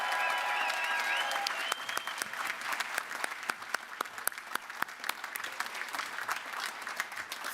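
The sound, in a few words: applause for graduates at a university ceremony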